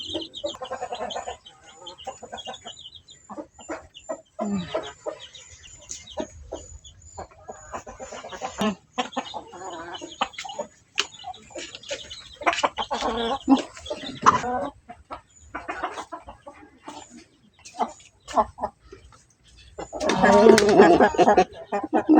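Chickens cluck on and off around people talking while being fed corn bran mixed with rice, with a burst of louder clucking near the end.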